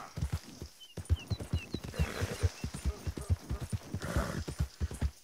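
Horse hooves clip-clop at a steady walking rhythm in Red Dead Redemption 2, close and distinct, with brief faint speech in the background.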